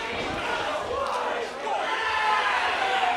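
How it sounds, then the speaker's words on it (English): Wrestling crowd at a Wrestling Open match cheering and rallying behind Ichiban, a steady dense roar of voices that swells after a brief dip midway. "As the crowd starting to rally behind Ichiban."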